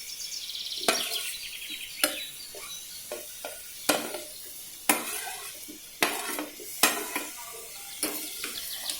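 Peas, carrot, beans and cauliflower fry in oil for a vegetable biryani under a soft sizzle, broken by about ten sharp scrapes and clanks of a spoon against the pot at irregular intervals.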